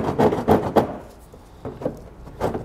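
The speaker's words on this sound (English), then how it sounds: "I'm going to come back with a file or a razor knife works really well just to clean up all those rough edges" A file or razor knife scrapes away rough edges during a trailer hitch receiver fitting on a 2018 Nissan Pathfinder. Three quick rasping strokes are followed by a pause, then a few softer strokes, close up.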